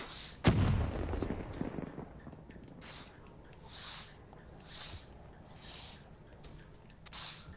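A grenade blast in Black Ops 3 gameplay booms loudly near the start, its rumble decaying over a second or two, followed by quieter pulses of game noise.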